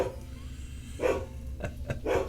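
A dog barks indoors in a few short, moderately loud bursts over a steady background hum.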